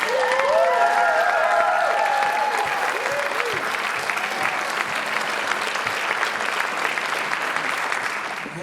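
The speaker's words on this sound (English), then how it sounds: "would you please give a massive round of applause" A large gala audience applauds loudly and steadily for several seconds, with a few whistles rising over the clapping at the start before it gradually tapers.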